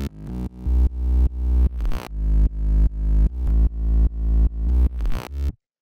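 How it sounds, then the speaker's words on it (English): Layered synth bass, a mid bass doubled with a sub, plays a chopped repeating pattern of distorted sustained notes that swell in rhythm, loud and alone before stopping abruptly. "So the next sound we got here is this bass,"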